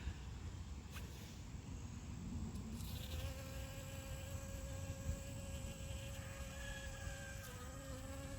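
Steady insect buzzing from a bee collecting pollen among garden flowers in the early morning, a continuous close drone with a faint tonal hum over low background noise.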